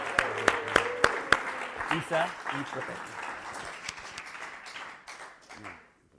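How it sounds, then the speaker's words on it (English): At a story slam, a few sharp, rhythmic claps lead into scattered audience applause that swells briefly and then thins out, while people talk over it before it fades. "We're going to really give him a big round of applause because this is his first time up here."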